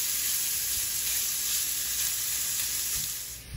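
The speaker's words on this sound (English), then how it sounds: "we're gonna go ahead and cook our bacon. Gonna get this bacon nice and brown and cooked through" Bacon frying in a pan gives a loud, continuous hiss and crackle that stays steady throughout and thins slightly in the final moments.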